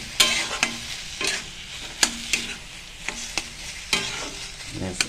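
A spatula stirs a cooked stuffing with chopped coriander leaves in a pan, giving sharp, spaced clacks and scrapes over a low sizzle.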